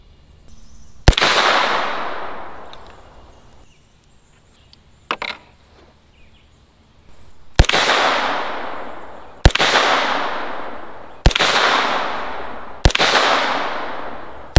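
Gunshots fired while zeroing an Olight Osight 3 MOA green dot reflex sight at a range, five loud sharp cracks with ringing decay, spaced a couple of seconds apart, plus a softer knock midway.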